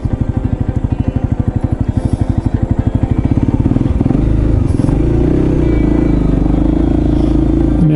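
A Honda CRF250L dual-sport motorcycle rides a mountain road in northern Thailand, its engine thrumming loud and close with a rapid pulsing beat, then settling into a steady drone mixed with wind rush.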